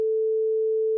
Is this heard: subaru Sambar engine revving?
no